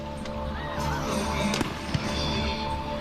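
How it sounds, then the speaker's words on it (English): Fireworks at a high school football game at sunset, a couple of muffled distant bangs under a busy crowd and broadcast background hum. "You can kind of hear it in the background. The bangs of the fireworks."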